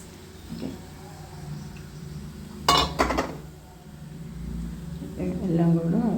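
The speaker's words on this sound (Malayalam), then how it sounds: "നമ്മൾ ഇത് നന്നായി ഇളക്കിയതിന് ശേഷം നമുക്ക് ഇത് അടച്ച് വെച്ച് വേവിക്കാം" A pot of drumstick lentil curry being stirred and covered, with a few soft scrapes and then a sharp metallic clatter of the lid in the middle, while someone talks throughout.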